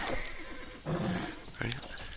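A horse neighs in the Titan Quest video game, one short whinny in the middle and a brief second cry near the end, set against steady game ambience.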